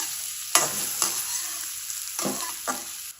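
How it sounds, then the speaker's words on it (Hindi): Finely chopped onions fry in a pan with a steady, soft sizzle. Several sharp spoon scrapes and stirring strokes cut through it at intervals, close up and without any voices. "बारीक बारीक आपने ये काटनी है प्याज, ज़्यादा मोटी नहीं। इनको थोड़ा सा फ्राई कर लेते हैं।"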